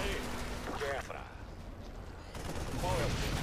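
Gunfire from StarCraft 2 gameplay, rough bursts of shooting and impact noise at the start and end, with a quieter stretch between and game sounds throughout.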